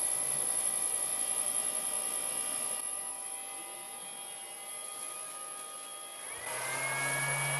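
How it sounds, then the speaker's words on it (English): Steady whirring cooling fan of an ISDT T8 1000W DC smart charger, a constant hum with tonal whine that dips slightly midway and rises again near the end, with no talking. "now we reached 60 degrees Celsius and the fan on the charger started spinning"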